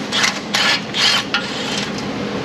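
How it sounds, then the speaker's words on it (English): Metal scraping and grinding as a pry bar works at a bent Ford Ranger XLT 3.0 steering knuckle, several short rasping bursts close up with no talk. "Bending the metal."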